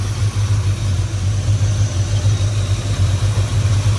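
An old truck engine labours on partial throttle, a loud, steady low rumble with a slightly uneven pulse that runs throughout and is heard alone.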